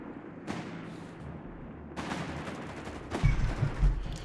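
Machine gun fire in Company of Heroes 3, a World War II strategy game: several bursts of gunfire and heavier blasts in a distant battle, getting denser and louder toward the end.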